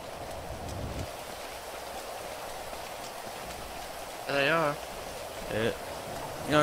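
Steady rain in a video game patters across the whole clip as a dense hiss, with a couple of brief voiced sounds rising above it partway through.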